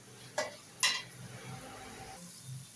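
Onions, coriander, mint and chillies sautéing for seeraga samba mutton biryani, a faint low sizzle broken by two sharp metallic clinks of a spoon against the pan near the start.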